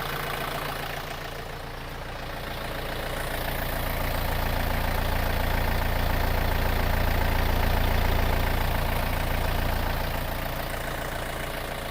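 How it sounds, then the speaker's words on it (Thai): A 51-horsepower tractor engine idles steadily and close by with a constant low rumble that swells slightly in the middle and holds for the full length, with no voices. "เดี๋ยวจะไปทดสอบการทำงานคร่าวๆของรถคันนี้นะคะ"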